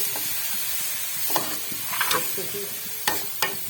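Carrots for gajar ka halwa stirred in a kadhai, with a few sharp scraping and clinking strokes of the spoon over a low steady background hiss.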